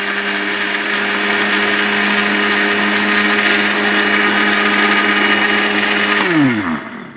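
A Panasonic 'monster' kitchen blender runs loud and steady with a strong motor whine, then winds down and stops near the end, with no one talking.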